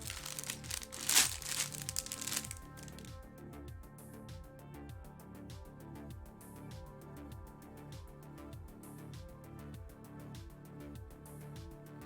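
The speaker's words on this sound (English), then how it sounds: "Muting so you don't hear the crumple, crumple, crumple of plastic." Plastic packaging from a Lego set crinkles and crumples in a loud burst near the start, then settles into a steady, softer rhythmic crinkling that continues throughout, close by with no talking.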